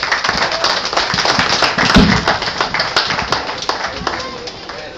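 Applause from a crowd at a Trinidad and Tobago Independence Day event, dense overlapping claps sustained throughout, loud and close, with some voices mixed in.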